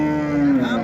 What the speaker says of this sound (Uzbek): Mana ho'kiz.